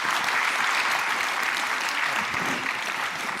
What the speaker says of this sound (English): Please join in giving a hand of applause to the panelists,